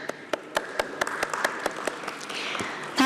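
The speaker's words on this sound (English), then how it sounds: "Let's have a huge round of applause for our dignitaries on stage." Audience at a company stock listing ceremony applauding the dignitaries on stage, with sharp distinct claps standing out early and then building into fuller, sustained clapping from the crowd.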